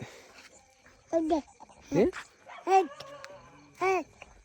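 A dog barks four short times at a village farm during the cumin harvest. The barks are moderate in volume and somewhat distant, over quiet background noise.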